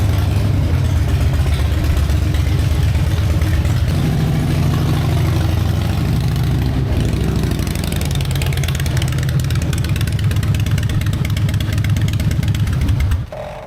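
A 2004 Harley-Davidson motorcycle engine runs steadily on a dyno in a tuning shop, a loud, continuous low throb with a strong idle-like pulse that holds for most of the stretch and cuts off abruptly near the end.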